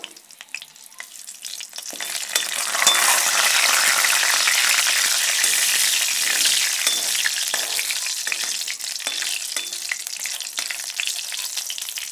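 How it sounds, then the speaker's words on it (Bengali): Cumin seeds, dried chillies and bay leaves dropped into hot oil burst into a loud, dense sizzle that swells after a couple of seconds and keeps crackling steadily, close up with no talking. "এখন ফোড়নটা দেব। সাদা জিরে, শুকনো লঙ্কা"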